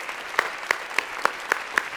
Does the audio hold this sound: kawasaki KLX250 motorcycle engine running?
no